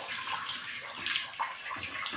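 Water is poured into a pressure cooker holding potatoes, a close splashing and gurgling stream that surges in a few uneven pulses over a couple of seconds, with no talking.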